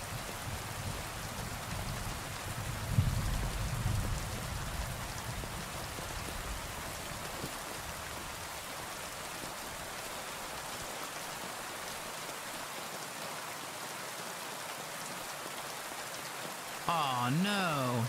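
Steady rain falls through the woods in Kingdom Come: Deliverance 2, a continuous even hiss of drops on leaves and ground with a brief low rumble near the start and a rising chirp-like tone at the end.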